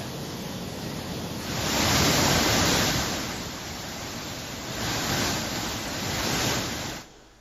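Water released from a barrage during heavy monsoon rain after the level kept rising, heard as a loud, continuous roaring rush that surges and eases in waves before cutting off abruptly, with no voices.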